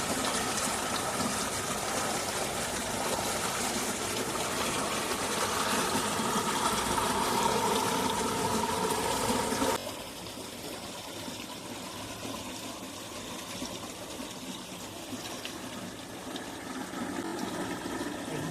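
River water rushing steadily over a small weir, a continuous broadband roar that drops to a lighter, softer flow partway through, close and loud throughout with no talking.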